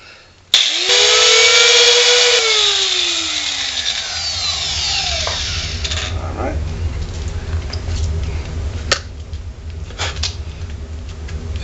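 A whiz wheel cutting grooves into the side of a bolt: a sharp, high whine that starts abruptly and holds loud for a couple of seconds, then winds down as the wheel spins out, followed by quieter handling clatter.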